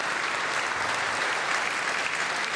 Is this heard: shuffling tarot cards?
no